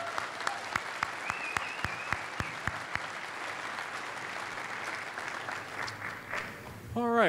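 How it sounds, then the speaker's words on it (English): Audience applause at a Clark County GOP convention, a dense steady wash of clapping from a large crowd that carries on, then thins as a voice cuts in near the end. "Another big round of applause."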